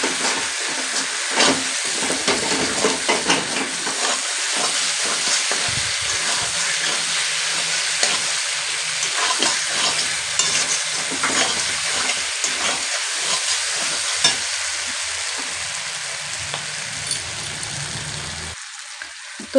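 Mutton sizzles and fries steadily in a hot pan while being stirred, with a continuous close hiss broken by scraping stirs, and no talking throughout.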